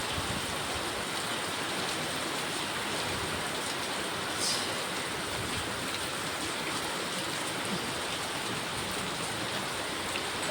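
Heavy rain pouring down steadily in Dum Dum, a dense, unbroken wash of hiss from drops striking surfaces, loud and constant throughout with no voices.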